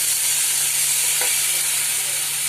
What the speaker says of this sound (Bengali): ভেজে রাখা আলুগুলো দিয়ে দিলাম একটু নেড়ে ছেড়ে